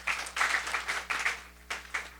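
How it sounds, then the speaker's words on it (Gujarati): Audience applause at a devotional Bhakt Charitam recitation gathering, several short bursts of clapping from a crowd that swell and fade over about two seconds, fairly near and with no talk. "એક વખત ભગતના તાળીઓથી વધારીએ."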